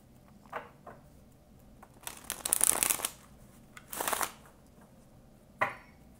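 A deck of tarot cards being shuffled, quiet riffling bursts with short pauses between them and a final brief snap.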